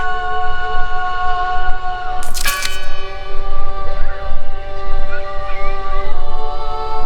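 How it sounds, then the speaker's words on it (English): A church bell in the video game Draugen rings with long sustained tones that ring on and decay, with a sharp bright strike partway through, over a low rumbling bed. "Listen! The bell!"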